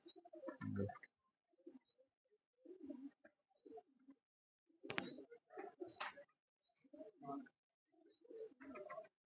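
Pigeons coo softly in bursts from a loft at dusk, low throaty rolling calls repeating with short pauses between them, fairly close and quiet.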